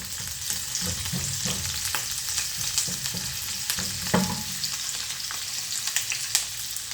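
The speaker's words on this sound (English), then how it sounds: "now you can see the onion is cooking" Onion frying in a pan while being stirred, a steady close sizzle with scraping stir strokes throughout, no talking.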